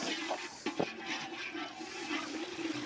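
Water is poured into a pan of hot, scorching masala, giving a close rushing splash and gurgle that swells and fades over a few seconds.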